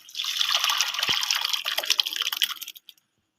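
Boiled lentil dal pours into a pan of spiced oil for egg dal, a short wet splashing and trickling that tapers off to silence after about three seconds.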